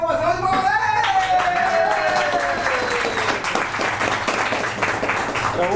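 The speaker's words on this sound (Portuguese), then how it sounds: "uma salva de palmas" Audience applause at an evening talk held in a shop, a steady wash of clapping that runs the whole stretch, with a voice speaking over it at the start.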